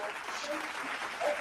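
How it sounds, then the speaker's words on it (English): Applause sound effect triggered from a live stream chat, a soft steady patter of clapping that swells briefly near the end, with a voice faintly underneath. "Self-appointed applause."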